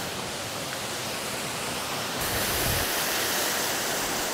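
Cascada Grande waterfall in Valle del Lunarejo pouring with a dense, continuous roar of falling water, loud and close, growing slightly stronger partway through, with no voices.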